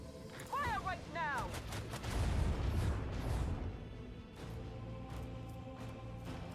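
Macro battery cannon fire from a warship in the Warhammer 40,000: Rogue Trader video game, a run of booming shots and rumbling blasts with some whooshing sounds, fairly loud and fading into a lingering low rumble.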